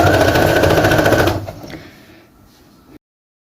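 Sewing machine stitching a fleece coat: a fast, loud mechanical rattle of needle strokes up close, then slowing into quieter clicks before stopping abruptly.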